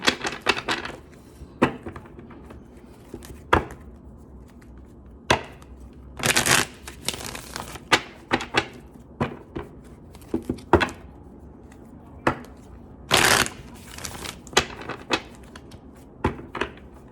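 Repeated crisp riffling and clattering bursts, irregular and close, like a deck of cards being shuffled over and over with short pauses between.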